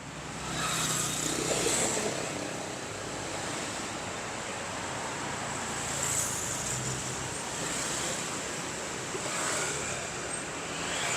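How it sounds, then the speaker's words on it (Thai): Wind blows steadily outdoors at night, a broad continuous rushing noise with gentle surges swelling and easing every few seconds, no voices present. "เป็นลมพัด"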